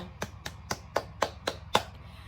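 Classroom students clap hands together in unison, seven crisp, evenly spaced claps at a steady beat over a faint low hum, with no talking.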